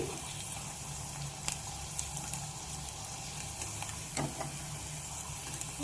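Disco papdi frying in oil, a steady soft sizzle with occasional pops and clicks, close but fairly quiet, with no talk.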